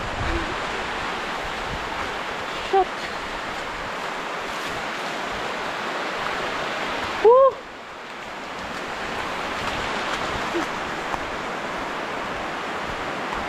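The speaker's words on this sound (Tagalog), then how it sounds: "Oh, sobrang lakas na ng ulan guys." Heavy rain pours steadily near a mountain spring in a rural province, a dense broadband hiss that fills the whole scene, with brief exclamations from people caught in the downpour.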